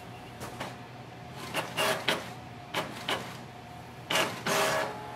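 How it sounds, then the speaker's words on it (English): A Canon MAXIFY GX4020 all-in-one printer runs a copy job: clear, close mechanical whirs and clacks of paper feeding and the print head moving, in uneven bursts with short pauses. "it will start printing."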